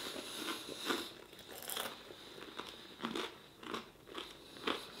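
Repeated loud crunches from biting and chewing overdone, crunchy bread eaten with extra hot beef curry and fries, each bite a sharp close crackle every second or so, with no talking.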